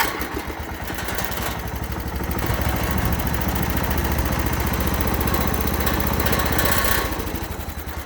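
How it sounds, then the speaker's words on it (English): A John Deere 214 lawn tractor engine with an electric fuel pump runs steadily, a loud close chugging drone that swells slightly in the middle, with no talking. "crank the motor, and the tractor will start up"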